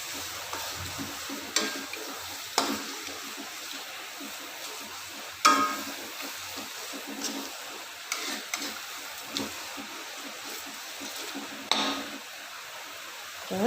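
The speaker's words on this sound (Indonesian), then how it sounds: "bawang putih, kemiri. Kita aduk sampai berubah warna jadi wangi ya, kecoklatan, kuning kecoklatan" Garlic and candlenut fry and get stirred in a pan, with a steady soft sizzle and occasional sharp scrapes of the spatula at irregular intervals, moderately close.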